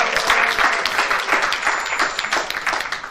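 An audience of teachers breaks into applause in a hall, a dense burst of many hands clapping that rises and then thins toward the end, heard fairly near with no speech over it.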